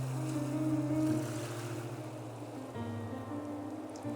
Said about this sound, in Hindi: सारा दिन इन लहरों के शोर को अपने अंदर भरता रहो।